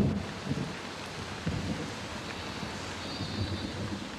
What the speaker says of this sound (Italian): Le incessanti piogge monsoniche contribuiscono ad aumentare il malcontento.